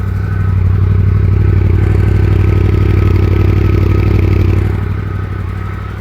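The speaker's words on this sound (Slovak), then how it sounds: "Ešte si môžeme vypočuť výfuk." A motorcycle idles steadily with a deep, throbbing exhaust rumble and faint mechanical clatter, loud and close for several seconds before easing slightly at the end.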